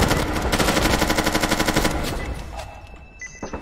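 Rapid automatic gunfire in the tactical multiplayer shooter Due Process, sustained loud bursts for about two seconds, then trailing off into fainter scattered shots and clatter.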